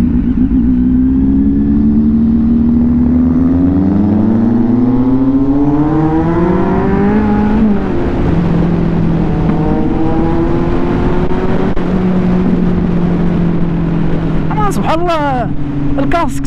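A motorcycle engine revs up and holds steady with rising and falling pitch, loud and close, with a brief higher whine near the end.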